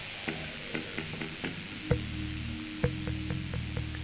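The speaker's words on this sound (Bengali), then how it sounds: "আলু বেগুন দিয়ে আরও পাঁচ মিনিট ঢাকনা বন্ধ করে রান্না হতে দেবো" Tangra fish curry with potato and eggplant cooking under a closed lid, giving a quiet, soft simmer and faint bubbling, with a few light clicks and taps, close but low in level.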